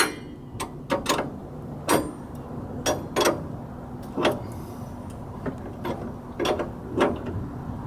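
Front shock bolts on a 1997–2004 Ford F150 2WD are tightened with a ratchet, producing a series of close, crisp clicking strokes in an irregular rhythm.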